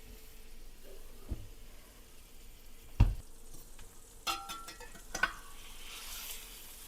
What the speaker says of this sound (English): The skillet is preheated, so hopefully we get a sizzle.